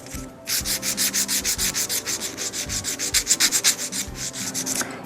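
A file shapes acrylic nails in quick, even back-and-forth strokes, a close scratchy rasp repeating about four times a second with no voices.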